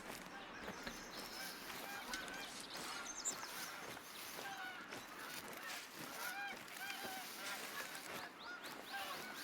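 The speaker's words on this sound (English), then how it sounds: "More geese flying over." A flock of geese in the video game Hunter: Call of the Wild honks repeatedly overhead, a busy chorus of calls over steady outdoor background noise.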